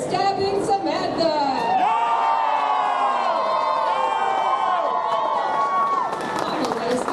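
Spectators at a Fan Expo Toronto 2023 knight fight show erupt in loud, sustained cheering and whoops, a dense wall of many voices that holds steady before easing.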